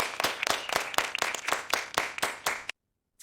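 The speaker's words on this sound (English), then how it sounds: "The class claps for him." A school class clapping for a boy after he introduces himself, a small group giving about ten crisp, closely spaced claps that stop abruptly into silence, with no talk over them.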